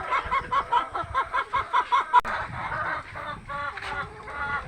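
Chickens in a poultry shed of about eighty laying hens, a close cluster of rhythmic clucks and squawking calls in quick bursts, several birds overlapping, with no talk.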